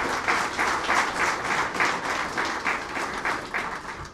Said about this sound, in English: I would like you to carry that with a loud round of applause.